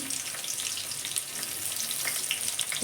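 Cauliflower pieces fry in hot oil with a steady, even sizzle that fills the whole moment, close and constant, with faint crackles and no voices.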